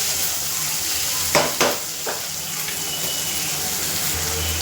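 Onions frying in a pan for street-style butter pav bhaji, a soft continuous sizzle with a few brief clatters of a spoon against the pan, no voices.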